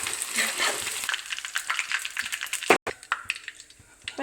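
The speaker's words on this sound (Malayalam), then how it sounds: "ചിക്കനൊന്ന് മറിച്ചിട്ട് കൊടുക്കാം അപ്പോൾ ഇതാ നമ്മുടെ ഫസ്റ്റ് ട്രിപ്പ് ചിക്കൻ വെന്തിട്ടുണ്ട്" Chicken pieces deep-frying in hot oil for a chicken gravy, a dense bubbling sizzle with crackles and a sharp clatter near the end, close and loud, no talk.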